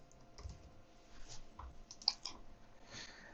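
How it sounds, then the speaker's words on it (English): Soft, quiet keystrokes tap irregularly on a computer keyboard while someone types a search into a PC's Start menu settings, with no talking. "start typing Printers and Scanners"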